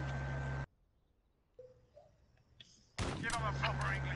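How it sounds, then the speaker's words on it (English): Video game gunfire crackles in sharp bursts at the start and again near the end, loud and close, with voices talking over it and a quiet lull between. "Every gun sound like a damn sniper on this motherfucker, where it's just fly across your ear"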